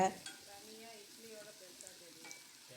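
Onions sautéing in a pan for masala idli, a quiet, low sizzle with occasional soft stirring scrapes and clinks, under faint background tones.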